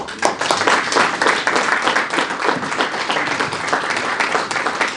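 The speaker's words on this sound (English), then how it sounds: "A round of applause for Dr." A large crowd applauds steadily at a project management conference, dense clapping filling the whole stretch at an even, loud level.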